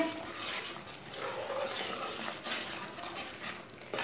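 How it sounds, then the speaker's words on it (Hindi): A spoon stirs peach jam simmering in a pot, a soft continuous scraping and bubbling texture, close and low-level with no talk. "इसे ऐसे ही चम्मच चलाते हुए 5 मिनट तक पका लेंगे।"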